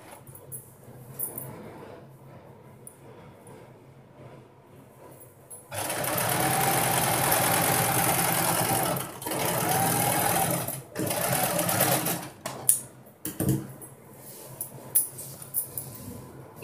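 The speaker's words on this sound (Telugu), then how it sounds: "ఇంకా ఇది మన నడుం పట్టీకి కింద సైడ్ జాయిన్ చేసేస్తున్నామండి" A sewing machine stitches a waistband onto full-circle palazzo pants. It whirs in loud, close bursts of several seconds each, separated by short pauses with small clicks and fabric handling.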